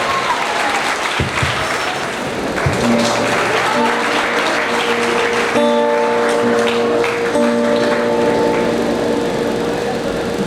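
Audience applause welcoming two performers on stage at a school Teachers' Day event, steady dense clapping throughout with sustained musical tones rising underneath partway through.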